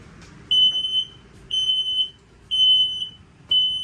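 A propane leak detector alarm in a 2022 Coachmen Clipper 262BHS camper beeps loud and shrill four times in a steady rhythm, each piercing beep lasting about half a second, close by.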